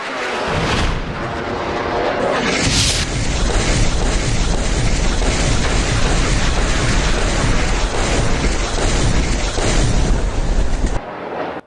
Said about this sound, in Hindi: मल्टी रॉकेट लॉन्चर सिस्टम के जरिए आकर कैसे रूसी सेना बरस रही है